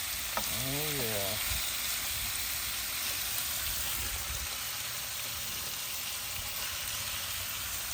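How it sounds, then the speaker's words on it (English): A full package of bacon sizzling on a Ninja Woodfire XL Pro grill griddle, a steady close crackling sizzle throughout, with a short voice near the start. "we got a whole package of bacon on there"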